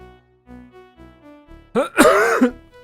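A person clears their throat roughly and loudly, close by, after a second or so of faint tonal background hum.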